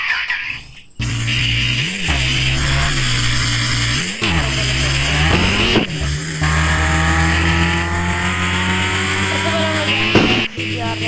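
Racing game car engines, including a GTR, roaring continuously with rising and falling revs, shifts and brief tire squeals, loud and up front with no talk over them.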